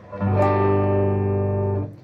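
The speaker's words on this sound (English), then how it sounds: "this is my clean tone" A single sustained clean electric guitar note or chord played dry through an amp with no reverb, ringing steadily for about a second and a half before cutting off cleanly.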